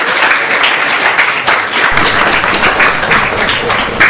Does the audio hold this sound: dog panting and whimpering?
no